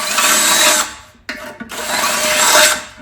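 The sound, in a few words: power drill drilling 8.5 mm holes in a muffler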